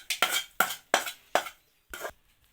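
Cooked, sautéed food is scooped from a pan into a bowl, giving five sharp metallic scrapes and clinks in an even rhythm, close up and with no talking.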